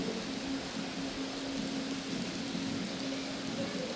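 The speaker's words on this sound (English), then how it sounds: "it's raining so much" Heavy rain falls at a theme park, Paultons Park, as a steady, fairly faint hiss of drops with a low constant hum underneath and no speech.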